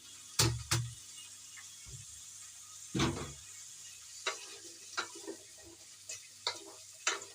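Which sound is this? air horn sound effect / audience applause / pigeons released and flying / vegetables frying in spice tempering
vegetables frying in spice tempering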